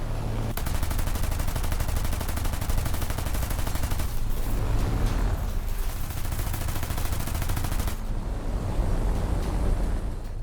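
A Brewster Buffalo fighter's machine guns fire on a Mitsubishi bomber in a dense, continuous rattling burst over a roaring engine and rushing wind, loud throughout.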